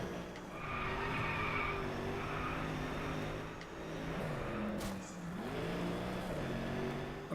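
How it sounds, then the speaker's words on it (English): Tennessee Venom car drifting in Driveclub, tires squealing in long sustained skids over a steady engine drone, the pitch sliding as the car slides through the corner, fairly distant and moderate in level. "Just drifting around."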